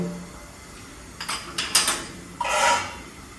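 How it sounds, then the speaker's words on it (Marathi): Iron griddle pan set down on a gas stove, giving a few short metallic clanks and scrapes followed by a brief rattling slide, close by with no voices. "गॅस पेटवते त्याच्यावर लोखंडाचा तवा तापत ठेवते"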